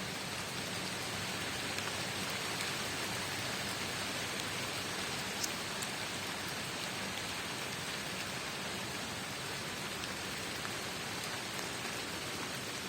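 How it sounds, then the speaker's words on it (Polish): Steady rain falls on surfaces, a dense, even patter of drops with no pauses. "Pada i pada na kuleczkę."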